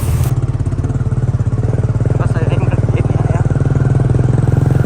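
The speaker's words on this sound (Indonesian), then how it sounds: "Kalau sekarang sih pakai motor aja biar cepet." A motorcycle ridden along a village route toward a river bridge gives a loud, close, steadily pulsing engine drone that runs unbroken the whole time.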